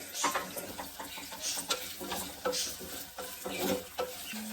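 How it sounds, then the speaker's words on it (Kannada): Onions frying in a pan with green chillies in a North Karnataka home kitchen, an uneven sizzle broken by frequent scraping stirs and light clinks of a utensil against the pan, fairly close. "ಈಗ ಉಳ್ಳಾಗಡ್ಡಿ ಹಾಕಿವಿ, ಉಳ್ಳಾಗಡ್ಡಿ ಫ್ರೈ ಆಗಕತ್ತೈತಿ"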